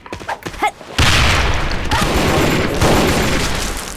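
A loud grenade explosion in Sudden Attack bursts after a few scattered shots, a sudden heavy boom followed by a long roaring, debris-filled rumble that slowly tapers off.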